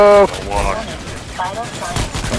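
Gunfire in a Starship Troopers–style shooter game, with a loud burst at the start followed by a continuous rattle of shots and impacts, and gamers' voices talking over the action.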